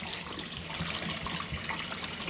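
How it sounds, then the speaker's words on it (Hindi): Water is poured over boiled pasta to rinse off the starch, a steady splashing stream running over the noodles at close range without any talk. "थोड़ा सा मैं इस पर डालूँगी पानी, ताकि इसमें जो भी स्टार्च है वो अच्छे तरीके से ख़त्म हो जाए"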